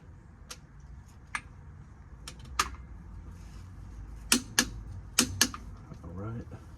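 A torque wrench tightens the differential plug on a 2019 Subaru Forester, giving a handful of sharp metallic clicks spaced irregularly over a low background hum, near and distinct, with a voice faintly present.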